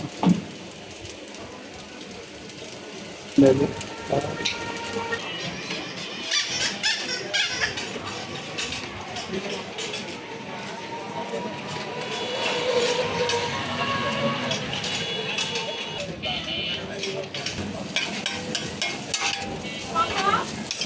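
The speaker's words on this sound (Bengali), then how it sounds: "এখন কড়া করে নাড়া দেওয়া হচ্ছে আমাদের নুডলস।" Noodles being stir-fried hard in a pan, with continuous scraping and sizzling that rises and falls amid busy background noise.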